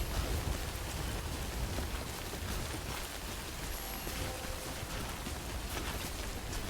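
Steady timefall rain pours down in the video game Death Stranding, a dense, even hiss that holds at one level throughout with no voices over it.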